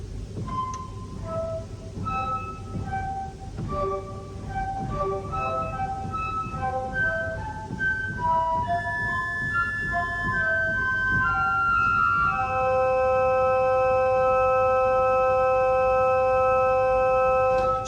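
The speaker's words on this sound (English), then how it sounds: "Sometimes that's called a concert flute, and it does sound like a concert flute actually." A pipe organ's 4-foot flauto traverso flute stop, a concert-flute voice, played alone: sustained bright pure tones in a flowing melody, building to held chords toward the end.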